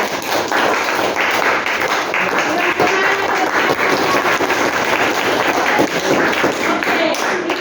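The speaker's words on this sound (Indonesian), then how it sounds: "Tepuk tangan untuk mereka." Steady, dense applause from a classroom of students clapping together, continuous and fairly loud throughout with no gaps.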